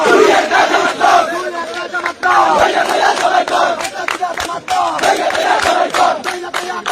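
A large crowd chants political slogans in rhythmic unison, loud and close, with repeated shouted phrases and brief breaks between bursts, at a Bangladeshi party rally.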